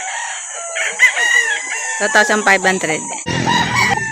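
Roosters at a fighting-cock sale in Calauan, Laguna crow loudly and repeatedly close by, with clucking and a voice naming prices in between.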